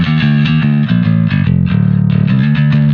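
Distorted bass guitar plays through a Jensen Punch 10-inch speaker in a metal style, a loud, continuous gritty riff with rapid repeated notes and no voices.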